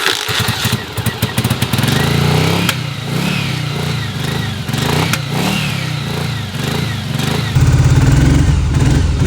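A Yamaha Virago motorcycle engine that has been sitting for a while idles loudly and roughly up close, with uneven clattering pulses and a rise in revs near the end.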